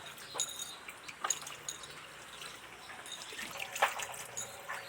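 Small fish being rinsed under a running tap give a faint, steady trickle of water with scattered light splashes and clinks, quiet and close.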